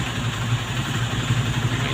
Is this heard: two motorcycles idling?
yes